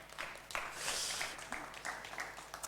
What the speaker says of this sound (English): Give her a small applause,